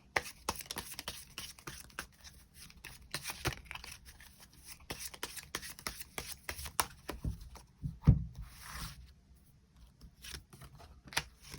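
Tarot cards being shuffled and drawn, a dense run of crisp papery flicks and riffles with occasional louder snaps, close and steady with no talking.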